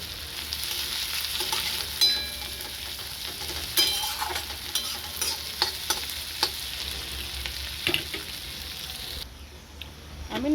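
Onions with a sprinkle of salt fry in a pan until lightly reddened, for a Bengali steamed egg dish, giving a constant close sizzle broken by sharp scraping stirs of a spatula and some clinks, with no talk.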